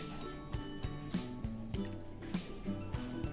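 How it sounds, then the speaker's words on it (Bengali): Kewra water is poured into a pot of beef curry for beef jal fry, giving soft, close dripping and splashing with a steady trickle of small liquid plops and no talk. "কেওড়া জলটা দিয়ে দিলাম"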